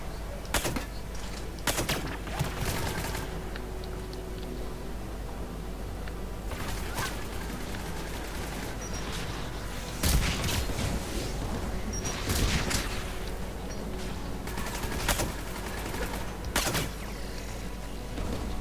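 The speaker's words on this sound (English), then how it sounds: "The Geth anti-aircraft guns are up ahead." Geth anti-aircraft guns in Mass Effect 3, booming in repeated bursts of heavy fire over a continuous rumble, sounding fairly near and loud.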